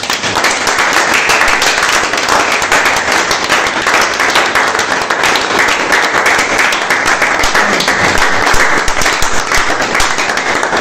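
A church congregation applauding, loud dense clapping from many hands that holds steady and close for about eleven seconds, with a faint murmur of voices underneath.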